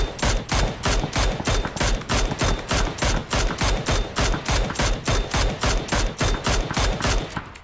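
Rapid automatic gunfire from the game PUBG rattles continuously in a steady, evenly spaced burst, loud and close, with a synthetic game-like punch to each shot.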